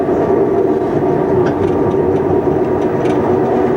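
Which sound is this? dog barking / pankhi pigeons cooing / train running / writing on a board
train running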